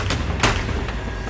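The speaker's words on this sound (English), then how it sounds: "There were gunshots ringing throughout the neighborhood" A few sharp gunshot cracks, roughly three, during a shooting at a party in a Houston neighborhood, over a steady low rumble, sounding somewhat distant and muffled.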